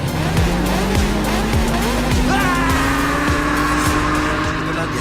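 Motorbike engine revving and rising in pitch during a ride in the Indian Bike Driving video game, with steady game noise, tire squeals and music underneath for the whole stretch.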